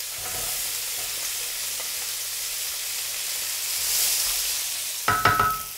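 Onions and carrots frying in goose fat in a pan, a steady close hiss of sizzling that swells briefly, followed at the end by a few clattering knocks of a utensil.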